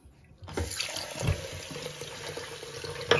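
Water runs from a tap onto a crayon-marked surface, starting abruptly after a brief quiet moment and flowing steadily and close, with a small splash or knock near the end.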